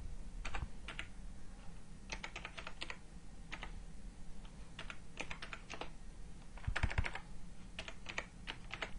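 One-handed typing on a computer keyboard, quiet irregular key clicks in uneven bursts and pauses, close by, no talk.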